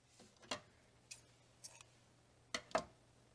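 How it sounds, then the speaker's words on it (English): Scissors cutting yarn while finishing a striped, ribbed crochet beanie, a few faint, crisp snips spaced irregularly over a low steady hum in an otherwise quiet room. "From here, we're going to cut and tie off our yarn."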